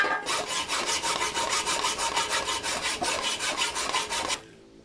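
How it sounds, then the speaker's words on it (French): A leak tube on a Derbi GP1 scooter is cut by hand in a fast, even rasping rhythm of about twenty strokes, loud and close, ending abruptly. "Je vais découper le tube de fuite là"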